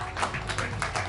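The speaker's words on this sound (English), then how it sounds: "Don't clap for that." Studio audience clapping during a late-night comedy talk show, a short burst of dense, steady applause filling the moment with no voices on top.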